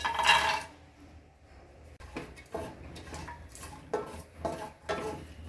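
Whole spices such as cinnamon, cardamom and cloves stir in hot oil in a pan for pulao, with an opening clatter of utensils, then repeated scraping strokes and a low sizzle.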